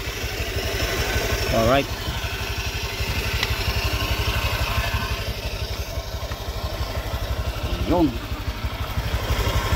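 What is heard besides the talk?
motorcycle engine idling, tensioner no longer ticking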